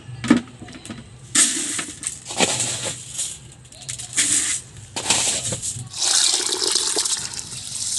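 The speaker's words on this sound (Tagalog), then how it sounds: "hugasan ko na po ng maigi yung bigas" Rice being washed by hand in water to make rice cake, with intermittent swishing and splashing bursts close by, growing into a steadier rush of water near the end.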